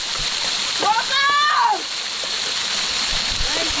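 A waterfall in the Nallamala forest near Srisailam gives a steady, broad rush of falling water, with a person talking briefly over it partway through.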